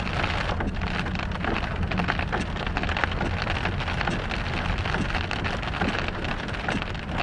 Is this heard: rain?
yes